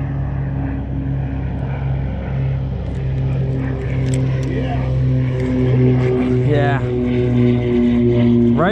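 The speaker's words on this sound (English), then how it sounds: "there's a plane right there" A propeller airplane drones overhead at a lakeside trout-fishing spot, its steady engine hum swelling and shifting in pitch as it passes, loud and continuous with brief voices underneath.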